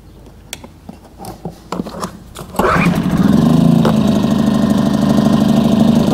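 A Champion 2000-watt inverter generator revs up from its economy setting to standard mode, with a few clicks and knocks before a loud, steady engine drone settles in close by.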